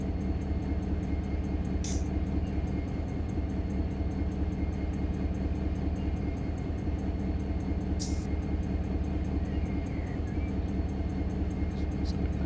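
A diesel freight locomotive in Run 8 Train Simulator runs at low throttle notch, producing a steady, deep engine drone with a few brief high-pitched squeals over the constant rumble.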